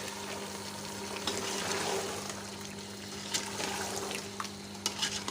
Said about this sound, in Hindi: तो इसमें पानी सिर्फ थोड़ा सा डालेंगे